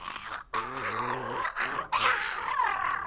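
A man imitates an animal growling and purring with his voice. Throaty, rumbling growls come in two bursts separated by a short breath, close and fairly loud, sounding much like a dog's growl.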